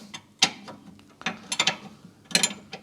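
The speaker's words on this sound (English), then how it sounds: "Then just move your spanner and continue to undo the retaining nut." A spanner undoes the retaining nut on a rear sway bar link of a Mazda CX7, giving a series of quiet, irregular metallic ratcheting clicks and taps close by.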